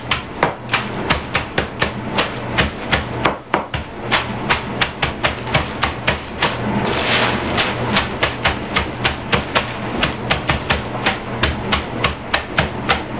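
A metal pan repeatedly pressed down on cornflakes to crush them finely for a pork chop coating, giving a steady run of loud, close crunching thuds with brittle crackle between strikes.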